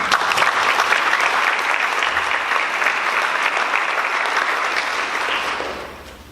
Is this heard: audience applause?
yes